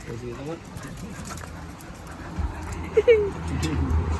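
Dogs whimper and whine in short, rising bursts right after being collected, heard near and mixed with people talking and a few soft cooing sounds.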